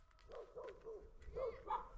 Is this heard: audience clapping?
no